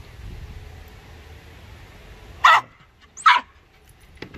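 A Redbone Coonhound barks twice in quick succession at a squirrel up a tree, loud and close against a quiet outdoor background, with a faint fainter yip at the end.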